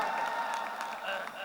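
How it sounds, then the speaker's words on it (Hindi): Audience applause welcoming a poet at a mushaira gathering, a short burst of clapping with crowd noise and voices mixed in. "जोरदार तालियों से इस्तकबाल करें।"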